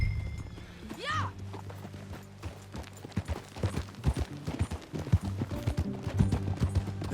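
Horse hooves clip-clop steadily on the ground in Red Dead Redemption 2, with a brief whinny near the start and soft game sounds around them.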